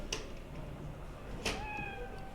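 A cat in the Cyberpunk 2077 video game gives a faint, high meow about halfway through, over a low steady hum with a small click near the start.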